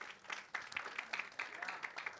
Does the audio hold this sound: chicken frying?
no